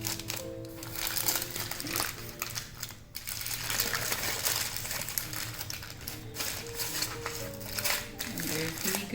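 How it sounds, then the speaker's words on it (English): Aluminium foil is crinkled and folded around egusi pudding, with continuous close crackling and scrunching under a steady background hum and a voice talking. "Wrap it again with foil."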